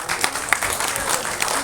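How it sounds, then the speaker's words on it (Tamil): A room full of people at a film team's press meet breaks into loud, dense clapping that carries on steadily for a couple of seconds without pause. "அவருக்கு பெரிய கைத்தட்டல் கொடுக்கலாம்."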